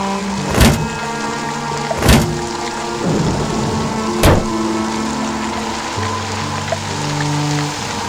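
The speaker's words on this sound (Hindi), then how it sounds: "आसमान में तेज बिजली कड़की और बारिश जो थोड़ी थमी थी, एकाएक फिर झमाझम बरसने लगी।" Sharp cracks of thunder break over heavy, steady rain in an audio drama, three loud close claps standing out in the first half before a softer rumble, with the downpour hissing continuously throughout and no voices.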